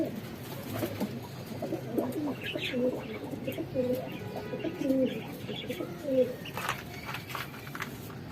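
Pigeons cooing in a loft during talk of cross breeding, soft low repeated coos scattered through the clip, with faint chirps, light rustling and background noise.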